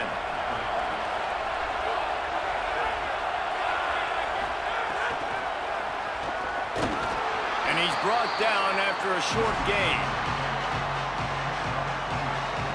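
Roaring stadium crowd in the CFB 27 college football video game, Florida Gators against Texas Longhorns, a steady loud wash of cheering that swells near the end under a commentator's voice.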